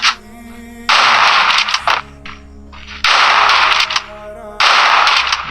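Rapid automatic gunfire bursts in the Free Fire video game, three loud rattling volleys separated by brief pauses with faint game tones between them.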